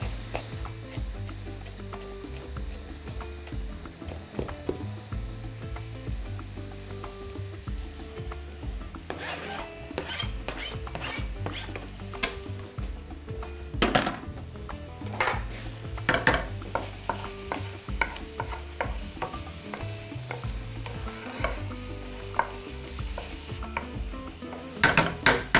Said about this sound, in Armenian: Կտրատում ենք մանր և տապակում։